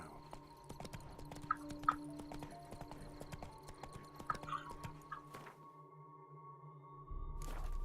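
Hooves of Roach, a horse in The Witcher 3, clip-clop in a quick, even rhythm over a faint game ambience. The hoofbeats stop near the end, and a brief burst of noise follows.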